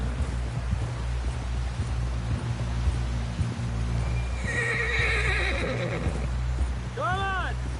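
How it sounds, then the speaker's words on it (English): In the Western video game Red Dead Redemption, a horse's hooves clip-clop steadily under spoken dialogue and light rain, then the horse lets out a clear, loud whinny near the end. "Someone help John down off this horse."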